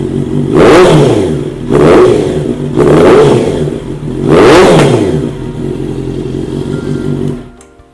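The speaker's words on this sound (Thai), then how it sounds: "มาฟังเสียงท่อพอๆกันเลย โอ้โห เสียงเอาเรื่องมากครับคันนี้" A 2013–14 Honda CBR650F motorcycle's exhaust roars through four loud, close throttle blips, each rising sharply and falling back to a rumbling idle.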